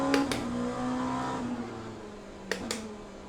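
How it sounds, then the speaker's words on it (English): Race car engine in the video game Le Mans Ultimate, a steady mid-pitched drone that falls slightly as the car eases off, with a few sharp clicks from gear shifts. "the engine noise makes you sound like you're in it"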